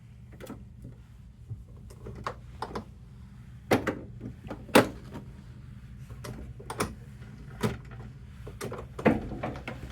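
Storage door on a 2021 Ford Transit van being opened, heard as a series of sharp clicks and latch knocks spread irregularly over several seconds, fairly close, over a low steady background hum.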